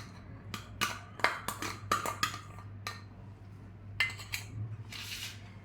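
Finely chopped onion goes into a pot of tomato chutney, with a series of close metallic clinks and taps of a spoon against the pot over a low steady hum.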